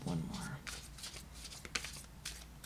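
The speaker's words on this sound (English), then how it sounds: "I love shuffling this deck because they're thick." A thick deck of tarot cards is shuffled by hand, with quick riffling bursts and soft card slaps repeating across a few seconds while a voice talks over them.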